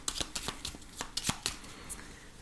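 Petit Lenormand cards shuffled by hand for a reading, a quick run of crisp riffling flicks and soft slaps, close and fairly quiet, with no talk.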